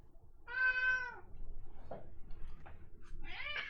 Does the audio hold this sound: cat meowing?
yes